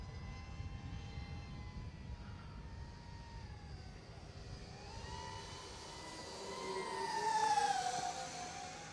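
An RC SR-71 Blackbird jet makes a low flyby pass at quarter throttle, a rising and falling turbine whine with a sweeping pitch shift as it passes and a swell of roar near the end.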